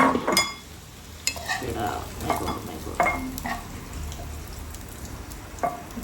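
Chicken fries in a pan for butter chicken, with a steady soft sizzle under intermittent stirring and scraping clinks of a utensil against the pan.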